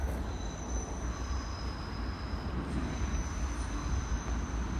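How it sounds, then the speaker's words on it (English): A Great Western Railway train passes at Newport station, a low steady rumble of wheels on rail with faint high squeals and tones, heard at a moderate distance without talk. "the 1740 Great Western Railway service from Swansea to London Paddington"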